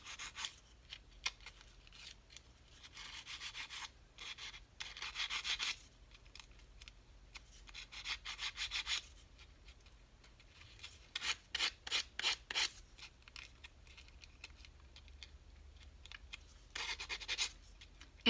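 Dry rubbing and scraping from the buffing side of a craft tool worked against a damp surface, coming in irregular bursts of short strokes with quiet pauses between, close and fairly soft, no voices.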